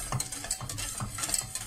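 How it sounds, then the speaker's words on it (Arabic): A spoon stirs a tomato peel mixture in a pan, giving quick, soft scraping strokes in a steady repeating rhythm with a faint sizzle underneath. "كنحرك، نبقى نحرك"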